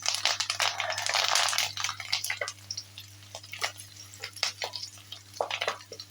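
Green chili, garlic and curry leaves fry in a hot pan with a soft steady sizzle, broken by scattered crackles, pops and stirring scrapes, heard up close with a low constant hum underneath.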